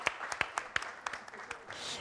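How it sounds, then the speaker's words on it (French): Sparse, distinct claps at an awards presentation for young jockeys, a thin irregular patter of applause with a faint voice in the background. "oui, les applaudissements."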